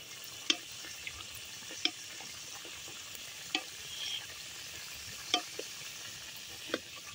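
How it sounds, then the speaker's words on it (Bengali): Bird-shaped snacks fry in hot oil while being stirred, a soft, faint sizzle punctuated by several sharp spatters and occasional light clinks spaced across the stretch. "এইভাবে নাড়িয়ে নাড়িয়ে পুরোটা ভেজে নেব, একদম লাল লাল করে আমি ভেজে নিয়েছি"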